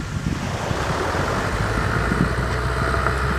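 A low, steady engine rumble from a tractor driving into the sea at the shoreline, blended with constant wind and surf noise and no speech.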